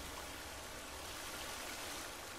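A waterfall in the video game The Forest gives a faint, steady rush of falling water, an even hiss with no talk over it.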